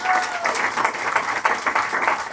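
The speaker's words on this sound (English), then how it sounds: "give a round of applause." A comedy club audience applauds a stand-up act, with steady dense clapping that stays loud and close throughout, mixed with a few scattered cheers and crowd voices.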